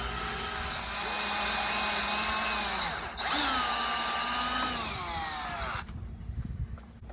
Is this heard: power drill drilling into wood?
yes